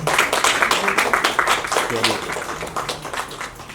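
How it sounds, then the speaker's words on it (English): An event audience claps loudly at first, then the applause thins and fades, with a voice talking through it. "A big round of applause to all of you."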